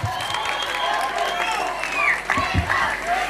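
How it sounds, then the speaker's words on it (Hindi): Applause at a college fresher party in Chamba, moderately loud and continuous with scattered sharper claps and crowd noise, voices murmuring underneath as the audience claps for a student named Meghna. "जोरदार ताली हो जाए मेघना जी के लिए।"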